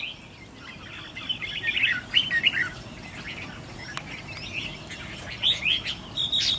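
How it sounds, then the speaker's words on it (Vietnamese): A red-whiskered bulbul chirps in short bright bursts of twittering calls, close and fairly loud, with pauses between phrases over a faint background hum. "bây giờ mình kè thử mấy con chim của mình này"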